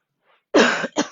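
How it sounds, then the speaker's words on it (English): A person coughs during a core and stretch workout session, a strong harsh cough followed quickly by a second shorter one, close and loud after a faint murmur. "Pardon me while I cough."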